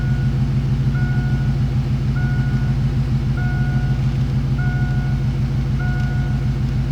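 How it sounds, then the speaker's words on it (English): An LS V8 engine swapped into a Fox-body Mustang idles too high in gear at a fast, steady rhythmic burble, a constant low throb with a faint periodic beep over it. "this is basically as low as the idle will go in gear"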